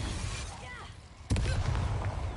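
A Petrificus spell is cast in the video game Hogwarts Mystery: a sudden sharp burst hits midway, followed by a ringing magical tail, over a low game background.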